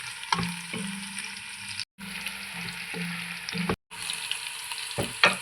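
Steady oily sizzling of chili powder frying in a pan for curry, with a few clinks and stirring knocks, briefly cutting out twice.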